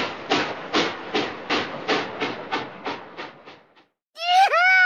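A steam train in a Curious George video game chuffs about ten times in a steady rhythm that slows and fades. After a brief pause, a loud, bright whistle-like call follows.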